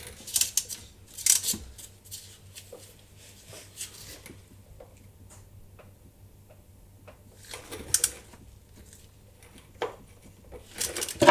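Tightening a transmission drain plug gives sparse, close metallic clicks and ratchet-like ticks in short bursts, separated by quiet gaps, over a faint low hum.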